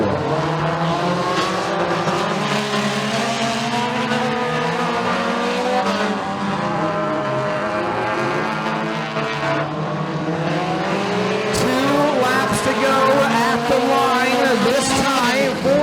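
Race cars roar around the Bradford Speedway dirt track in a heat race, engines revving loud and continuous as they pass through the turns, with an announcer talking over them.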